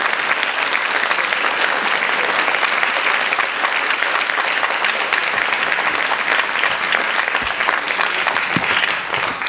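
A large church revival congregation applauds in thanks, a dense, loud, steady wash of many hands clapping that holds without a break from start to finish.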